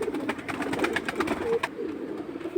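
Several Giribaz flying pigeons cooing in a steady stream of short, overlapping calls close by, without talk.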